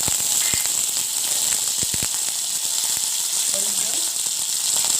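Curry leaves and green chillies spit and crackle in hot oil, tempering for dhokla. A steady close sizzle carries sharp pops scattered throughout.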